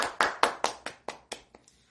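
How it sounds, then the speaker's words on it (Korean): A small group gives brief applause for the main PD during a Korean talk show, with seven or eight distinct close hand claps in an even rhythm that fade toward the end. "우리 메인 PD님께 박수 한번 치워봅시다"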